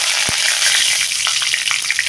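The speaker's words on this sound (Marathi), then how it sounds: "आता फोडणीमध्ये जाणार आहे हा कढीपत्ता" Curry leaves hiss and crackle as they hit hot oil already holding cumin and asafoetida for a Marathi tempering, a steady close sizzle with a few sharp pops and no talking.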